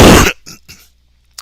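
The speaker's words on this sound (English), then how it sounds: "My apologies for coughing into your ear holes." One harsh, loud cough close to the microphone, followed by a couple of softer throat-clearing rasps and a faint short sound after a pause.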